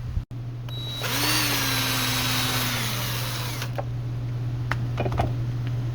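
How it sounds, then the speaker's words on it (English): An electric drill whirs up to speed with a rising whine, then runs steadily while drilling a hole in an 8th-generation Honda Civic to mount a voltage gauge, with a few short clicks and knocks near the end. "Just make sure you drill it in the center until you hit the hole that you want it."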